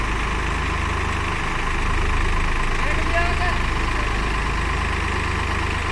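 Two tractors, a Swaraj 744XT and a New Holland 3600, run at about 1000 RPM in a loud, steady, low diesel drone. The engines hold constant throughout while voices talk over them.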